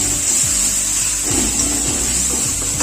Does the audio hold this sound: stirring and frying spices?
yes